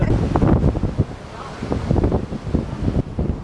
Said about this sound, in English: So we are getting some big waves right now.